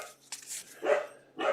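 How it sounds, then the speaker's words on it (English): A puppy barks three times in quick, uneven succession, close and fairly loud, with short sharp yaps and brief gaps between them. "Sorry about my puppy. He's going nuts all of a sudden."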